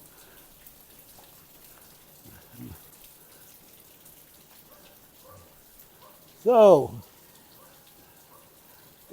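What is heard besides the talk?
rain falling during a garden walk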